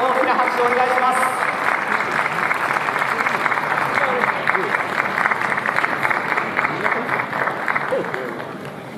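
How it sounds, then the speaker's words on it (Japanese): Loud, sustained applause from a racecourse crowd at Nakayama, honoring a jockey, rolling steadily for the full span with dense clapping and a slight fade near the end. "どうぞ皆様大きな拍手をお願いします。"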